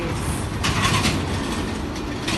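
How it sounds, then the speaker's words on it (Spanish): Bus and heavy traffic noise from the Metrobús on a busy Mexico City street, a steady low rumble with a brief louder passing swell, no voices. "El Metrobús es uno de los principales"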